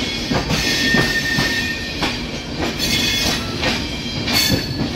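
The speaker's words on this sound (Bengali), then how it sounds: "আর ওদিকে ঢুকছে লখনৌ চণ্ডীগড় প্রয়াগরাজ সঙ্গম চণ্ডীগড় এক্সপ্রেস।" Lucknow–Chandigarh Prayagraj Sangam Express rolling into a station, a steady loud rumble of wheels and carriages with repeated rhythmic clacks and a faint high squeal, no voices.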